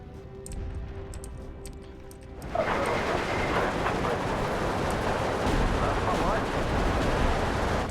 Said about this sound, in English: Definitely a full-on artillery duel now.